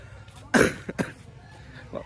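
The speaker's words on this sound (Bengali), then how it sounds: "প্রচুর কাশি হয়েছে" A person coughs several times, one harsh burst followed by two shorter coughs close to the microphone, then a faint throat sound against quiet background.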